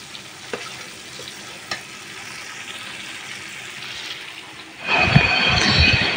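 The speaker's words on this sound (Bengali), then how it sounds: "এই তো চিকেনগুলো দিয়ে দিয়েছি, এগুলো ভেজে চিকেন ফ্রাই খাবো ফ্রাইড রাইসের সাথে।" Marinated chicken pieces fry in hot oil, a steady crackling sizzle that swells sharply louder partway through as more pieces hit the pan.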